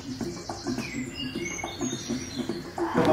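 Birds chirp in a courtyard, a busy mix of high tweets and short calls against a low rhythmic background, moderately close, with a louder rustling burst at the end.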